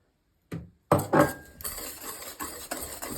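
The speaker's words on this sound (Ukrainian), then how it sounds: "Добренько все перемішуємо." A spoon stirs cake batter of sugar, flour and eggs in a bowl, starting with a couple of sharp knocks against the side and then settling into soft, repeated scraping strokes, close and fairly quiet.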